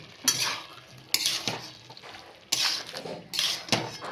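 Bottle gourd and fried potatoes stir-fried together in a pan, with bursts of scraping stirring and sizzling that come in rough waves, a spatula clattering against the metal, close and moderately loud.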